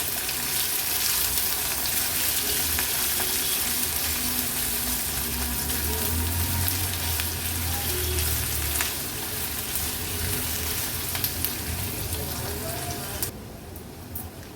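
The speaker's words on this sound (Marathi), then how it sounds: "गॅसची फ्लेम लो करून कांदा आपल्याला शिजवून घ्यायचा आहे" A chopped medium onion cooks in oil in a pan over a low flame for kanda poha, making a soft, even sizzle that runs steadily throughout.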